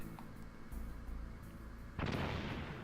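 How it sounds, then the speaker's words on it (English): A grenade detonates in Metal Gear Solid, a sudden loud burst about two seconds in that follows quieter game background sounds and leaves a rumbling tail to the end. "grenade explosion, not good enough"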